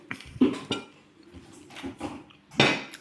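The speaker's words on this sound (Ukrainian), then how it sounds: "зараз я тарілки заберу" Plates and dishes clink and clatter as they are gathered up at an outdoor table in Italy, several sharp knocks spread unevenly between quieter shuffling.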